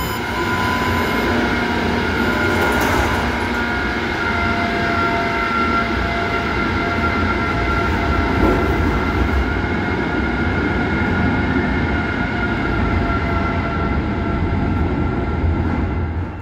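A Budapest Millennium Underground train rumbles steadily along the line, a loud continuous drone with rattling wheels and humming motors that persists throughout with no talk.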